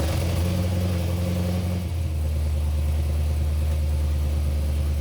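The engine of a crashed C6 Corvette, powered only by a jump box, runs steadily at a low idle close by, with a faint hum fading partway through and no talking.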